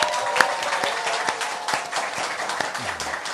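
A small studio audience claps to open a TV current-affairs talk show, scattered, fairly quiet applause with distinct individual claps over a few seconds.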